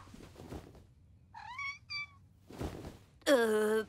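A kitten in the Polly Pocket cartoon meows several times, two short high mews followed by a louder, longer cry, with brief rustling sounds in between.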